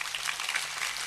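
An audience claps at a humorous religious lecture, a short burst of steady, fairly faint applause without voices.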